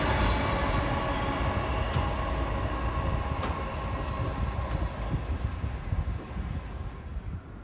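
Class 221 passenger train passing on the West Coast Main Line, a steady loud broadband rumble of wheels and rail noise that fills the whole stretch and eases slightly toward the end.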